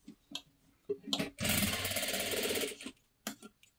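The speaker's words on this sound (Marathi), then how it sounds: "अशा पद्धतीने डबल शिलाई मारून घ्यायची" A sewing machine runs a double row of stitching on boat-neck blouse fabric in one close, steady whir lasting about a second and a half, framed by brief soft handling noises before and after.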